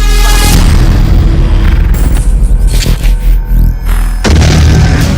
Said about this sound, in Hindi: बम विस्फोट से फिर थर्राया भागलपुर।